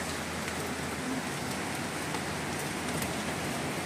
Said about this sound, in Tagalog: Maulan na uli. Ang lakas ng ulan.